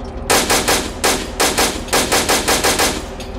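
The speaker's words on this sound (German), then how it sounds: "Maschinengewehr." Machine gun fire in the World War II game Iron Front: Liberation 1944, loud close rhythmic bursts of rapid shots in several short strings with brief gaps between them.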